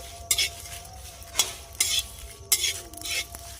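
Cumin seeds and spices sizzle in hot oil in a wok as a metal spoon scrapes and stirs them in several sharp, rhythmic strokes, with a steady frying hiss underneath.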